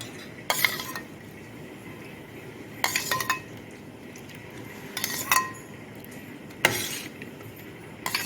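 Sabja seeds are stirred into milk in a glass vessel with a spoon, making a few separate bursts of clinking and scraping against a quiet background, with no talking.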